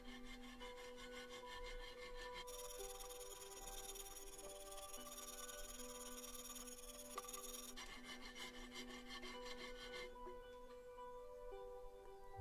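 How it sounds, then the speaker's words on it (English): A hand rasp files across an aerated concrete block being shaped into an Easter Island moai head, giving a steady, continuous scraping rasp that carries on without a break from start to finish at close range. "I then just went round all the features again with a rasp to just make them more defined."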